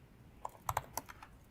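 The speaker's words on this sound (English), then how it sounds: "so if I type results -AP" Short burst of typing on a computer keyboard, about half a dozen crisp close key clicks in an uneven run, heard alone in a quiet room.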